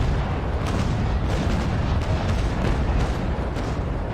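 A ship's cannon volley in the naval combat game Naval Action: a dense, continuous roar of overlapping booms and rumbling blasts that stays loud throughout, with no voices.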